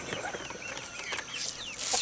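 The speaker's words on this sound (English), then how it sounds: "That's one of my young roosters. He's starting to crow." A young farm rooster attempts an early crow, a short rising call over a background of clucking chickens and other fowl in the pen, fairly close and moderately loud.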